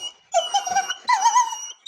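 A dog whimpers and yelps in two drawn-out, high whining bursts, close and fairly loud, with no talk.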